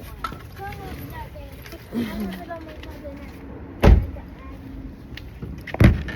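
A truck door shuts with two solid thuds a couple of seconds apart outdoors, with faint voices talking and low background rumble around them.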